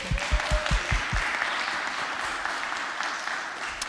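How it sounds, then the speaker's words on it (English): Audience at a congregation's annual meeting applauds the board trustees, a broad wash of clapping that follows a few low thumps at the start and holds steady throughout. "And round of applause for this group."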